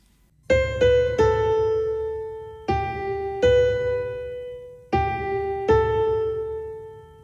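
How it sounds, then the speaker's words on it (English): Tied musical notes: sustained notes ring out clearly, a few separate attacks each held and decaying slowly, in three pairs of struck tones with no talking. "playing tied notes should sound like this."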